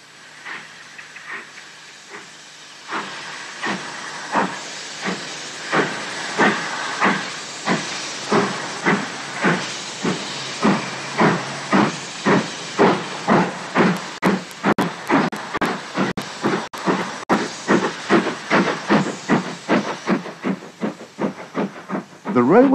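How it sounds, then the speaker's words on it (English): Steam locomotive pulling away from a branch line platform on British Railways in 1962, its exhaust chuffs starting slow and quickening into a steady, loud rhythmic beat with hiss between, close by, with no talk. "watching the train pull away from the branch line platform"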